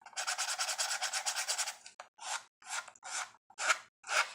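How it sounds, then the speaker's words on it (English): A nail file sands the edges of a composition book journal with a long run of quick rasping strokes, then slower separate scrapes, close and clear with no talking. "I'm just going to take my nail file and I'm going to try to distress and kind of sand down my edges a little"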